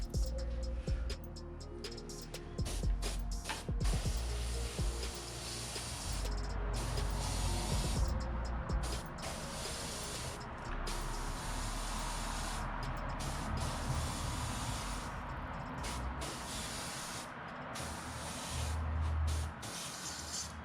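An airbrush sprays paint onto a small soft-plastic micro panfish bait, giving a continuous close hiss broken by short bursts and pauses as the trigger is worked, with a faint low hum beneath.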